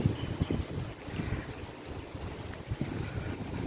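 Wind gusting through an open park on Palm Jumeirah, Dubai, heard as a steady rumbling buffet of wind noise on the microphone, fairly loud and continuous with no voices.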